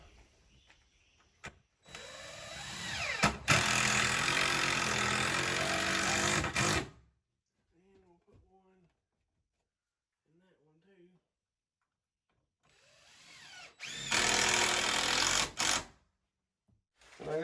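A power drill drives a screw into an old drywall stud, two loud whirring bursts of several seconds each separated by a quiet gap with faint clicks and handling noise, close to the microphone.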